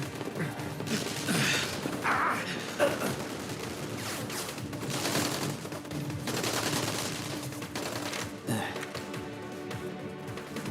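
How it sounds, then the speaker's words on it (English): Bursts of video game gunfire crackle in the distance, scattered and mixed with sudden crashes, under a steady background and some voices. "It's a gunfire."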